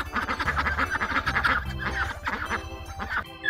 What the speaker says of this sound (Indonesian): di sini ada bebek ya